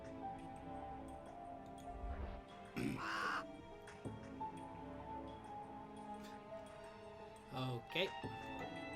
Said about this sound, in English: My pet raven hubris.